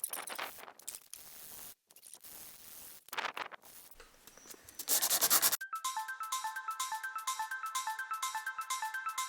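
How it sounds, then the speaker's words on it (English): Rough, raspy rubbing strokes of hand sanding knife handle scales made from circuit board come in uneven bursts, then give way to a repeating electronic ringtone melody. "we're gonna work on hand sanding the scales a little bit."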